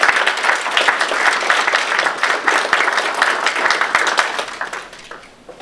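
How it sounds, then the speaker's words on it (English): An audience applauds, a dense steady wash of clapping that holds for several seconds and then fades out. "please give a round of applause"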